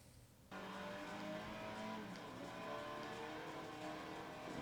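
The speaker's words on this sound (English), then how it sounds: "whether it's driving straight through at high speed, sliding the car sideways." A car in Forza Motorsport 4 drives at high speed on a Top Gear track, its engine a steady sustained roar with rising revs and faint tire noise, continuous and fairly loud with no talk.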